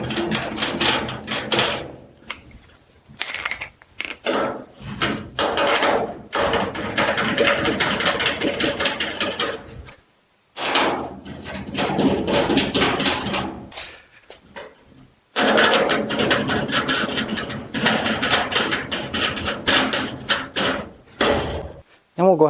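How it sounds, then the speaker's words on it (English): Plastic leveling legs being threaded into the bottom of a Gladiator extra-large GearBox garage cabinet, giving repeated close rasping, ratcheting turns in bursts separated by brief pauses, with no talk. "take the 4 leveling legs and thread them in on the bottom"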